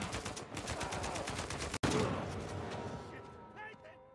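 Rapid bursts of gunfire in Uncharted 4: A Thief's End, a fast string of sharp shots for nearly two seconds, then one louder blast that decays into fading echoes and clatter.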